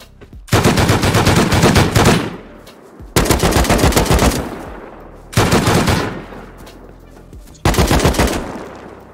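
Gunfire in the video game Rust comes in four long, loud automatic bursts, each lasting about one and a half to two seconds, separated by brief gaps.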